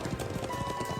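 Horse hooves clip-clop in the video game Trails of Cold Steel II, a steady rhythmic trot with a sustained tone running under the second half.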